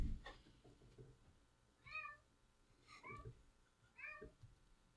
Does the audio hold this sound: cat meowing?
yes